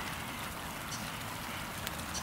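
Steady rain falls in Australia as a soft, even hiss of drops on surfaces, faint and continuous throughout with no voices.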